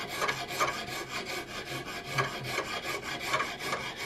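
A hand file rasps across the wooden stock of an Investarms Gemmer Hawken rifle kit, shaping rough extra wood in repeated even strokes, close and clear with no voices.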